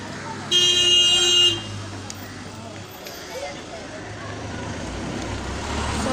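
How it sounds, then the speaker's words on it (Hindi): Busy roadside traffic with passing vehicles and a loud, sustained car horn blast near the start, followed by steady rumbling road noise while someone talks over it. "हम लोग लाइट के कारण से रास्ता में शूट कर रहे हैं इसलिए सब गाड़ी का साउंड आ रहा है"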